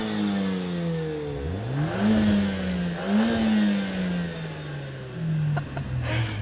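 Mercedes-AMG A45 S four-cylinder engine revving repeatedly, rising and falling in pitch through several loud blips over a rough idle, close by, with a short crackle near the end.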